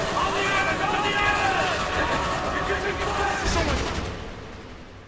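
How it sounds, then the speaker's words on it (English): Dense, continuous gunfire from enemies on rooftops in Call of Duty: Black Ops, with rapid overlapping shots and bursts that stay loud and steady before easing off near the end, while voices murmur underneath. "The guys on the roofs, I believe, are shooting rocket launchers."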